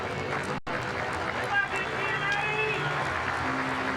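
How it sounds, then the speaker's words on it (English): A crowd claps and cheers in a steady wash of applause at a high school baseball championship game while a voice talks over it. "that's a round of applause for Richard Giannotti"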